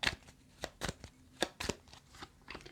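Tarot cards are handled and laid down in a handful of soft, close slaps and rustles spaced irregularly, quiet and alone.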